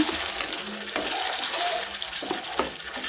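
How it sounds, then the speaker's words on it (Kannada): Ground onion paste sizzles in hot oil with cumin seeds for a chana masala, a steady hiss broken by occasional clinks and scrapes of stirring in the pan. "ಈಗ ರುಬ್ಬಿರುವಂತಹ ಈರುಳ್ಳಿ ಮಿಶ್ರಣವನ್ನು ಸೇರಿಸಿ ಚೆನ್ನಾಗಿ ಫ್ರೈ ಮಾಡ್ಕೋಬೇಕಾಗುತ್ತೆ"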